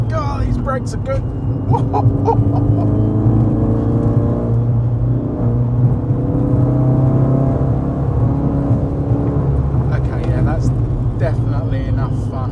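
A 455bhp Ford Focus MK3 RS driven hard on the road, its engine droning and rising steadily from inside the cabin, loud and continuous, with someone talking over the engine noise.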